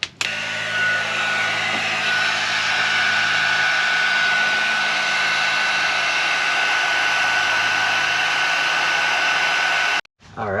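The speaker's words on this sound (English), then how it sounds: "Now we're going to go ahead and heat shrink them." Heat gun shrinking heat-shrink tubing onto battery cables, a loud, steady close-up blowing roar that runs unbroken for about ten seconds before cutting off.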